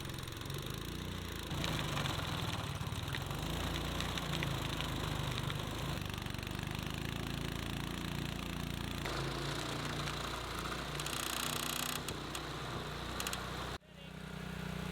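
A trencher engine runs steadily and loudly throughout, a continuous mechanical drone with grinding texture, cutting off abruptly near the end.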